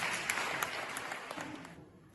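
Theatre festival audience at the opening of a town drama competition applauds, a dense steady clapping that fades out near the end.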